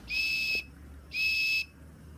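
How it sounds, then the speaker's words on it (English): A lifeguard's whistle at a toy swimming pool gives two sharp, shrill blasts of about half a second each, separated by a short pause and heard clearly over quiet background. "The lifeguard blows his whistle and Po removes the food from the pool."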